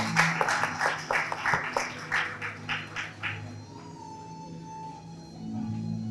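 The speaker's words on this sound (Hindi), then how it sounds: "आप सभी से आग्रह है कि जोरदार तालियों से" Audience at a Vichar Sangam discussion claps to welcome Sadhvi Pragya, a faint, rhythmic round of applause for a few seconds that then fades into quiet room tone.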